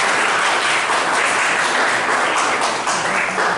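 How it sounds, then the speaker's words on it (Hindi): Audience applause welcoming a guest at a disability awareness legal services event in Nagda, a dense steady wash of many hands clapping, loud and continuous throughout with no talk. "जोरदार ताली से"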